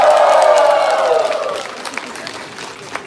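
An audience at a Moscow event applauds, loud at first, then the clapping thins and fades into scattered claps.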